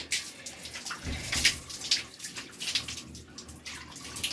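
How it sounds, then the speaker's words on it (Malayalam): A small kitten being bathed in warm water, with soft splashing and trickling close by as water is gently poured and rubbed over it, faint and unsteady, with no voices. "ഞാൻ ഒഴിക്കുന്നില്ലല്ലോ കുഞ്ഞുവിൻ്റെ മുഖത്ത് ഒഴിക്കുന്നില്ലല്ലോ"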